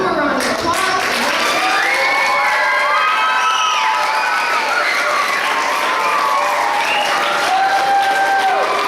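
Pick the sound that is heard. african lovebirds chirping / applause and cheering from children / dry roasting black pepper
applause and cheering from children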